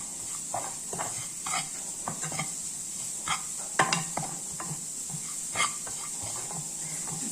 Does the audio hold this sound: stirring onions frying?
yes